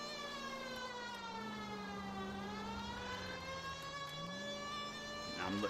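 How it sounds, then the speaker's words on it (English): Police siren in the LA Noire video game, a steady wailing tone rising and falling smoothly and continuously, loud and close throughout. "I'm letting these sirens being loud and clear to let her know we know where you're at."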